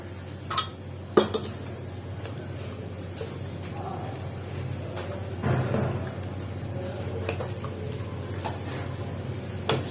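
Metal utensils clinking against an appam pan in a home kitchen while batter is poured for appam, with sharp scattered taps and clinks over a low steady background hum.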